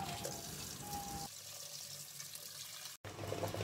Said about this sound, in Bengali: ডিম চপের জন্য আমি আলু আর ডিমগুলো আগে ধুয়ে নিচ্ছি